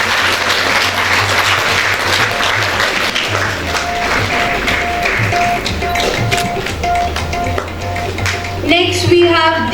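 Continuous audience clapping at a school award ceremony, a dense steady patter of hands with a low hum beneath, fading slightly before a voice begins speaking at the end.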